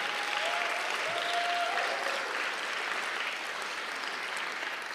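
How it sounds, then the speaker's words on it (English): An audience at a poetry reading claps in a steady, sustained round of applause, dense and fairly close, with a brief whoop near the start. "Can we have a round of applause for Tiana?"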